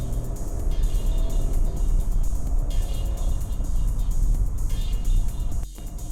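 Hyundai Venue with a 1-litre turbocharged three-cylinder petrol engine, shifted down to second gear to overtake a truck on an Indian road; steady, loud engine and road drone throughout with no talk.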